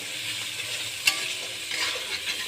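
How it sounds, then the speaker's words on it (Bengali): Chicken pieces fry and get stirred with onion, ginger and garlic for chicken kosha, giving a steady close sizzle with light scraping and a single sharp clink partway through. "এটা পেঁয়াজ আদা রসুনের সঙ্গে এটাকে একটু হালকা নেড়ে ছেড়ে নেওয়া হচ্ছে, এটা যাতে ভাজি ভাজি হয়"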